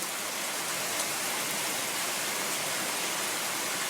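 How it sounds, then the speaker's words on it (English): Steady rain falls outdoors near horses, a dense even hiss of drops on surfaces close by that continues throughout without voices. "We weren't even supposed to get rain today."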